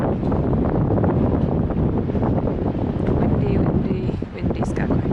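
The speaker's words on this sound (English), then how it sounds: "Windy Skagway." Strong wind blowing in Skagway, Alaska, a loud, steady roar of gusts buffeting the microphone throughout, with faint voices mixed in.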